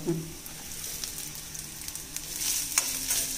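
Grated coconut frying with onions for kara kuzhambu, a close, moderate sizzle with light scraping and stirring strokes of a spoon, plus a faint voice briefly in the background.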